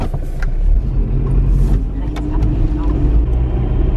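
A car pulls away with a steady, close engine rumble and road noise, while people talk quietly inside.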